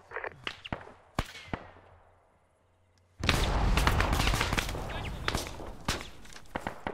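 Heavy gunfire during a field training exercise in a game, scattered sharp shots at first, then a sudden dense roar of sustained fire with sharp cracks punching through.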